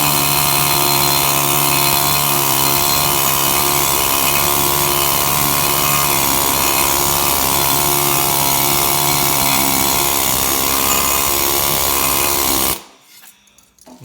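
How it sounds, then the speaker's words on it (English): A pneumatic needle scaler hammers rust off steel in a loud, continuous rattling buzz lasting over twelve seconds before the air cuts off and it winds down. "Turn the air on."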